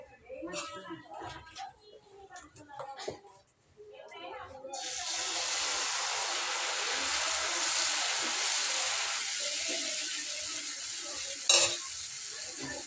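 A dosa sizzles loudly on an oiled hot pan in a home kitchen, a steady frying hiss that starts abruptly partway through and then holds. Earlier, a person talks over quieter stirring and clattering.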